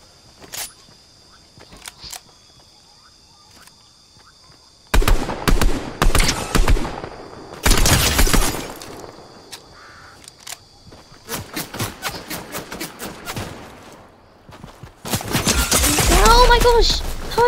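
Gunfire in the video game Fortnite, Zero Build solos mode: loud bursts of rapid shots in clusters separated by quieter stretches, with a player talking intermittently over and between the volleys.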